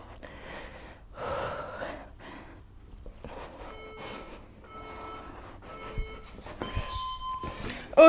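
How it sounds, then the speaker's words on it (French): A woman breathes heavily and pants, out of breath during a beginner full-body calisthenics workout at home, with repeated loud gasping breaths up close and brief snorting exhales. "Moi, je suis clairement essoufflée, hein, je vous le dis."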